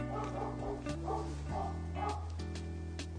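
A dog yips and whimpers repeatedly in short bursts over a steady low hum, somewhat distant and muffled.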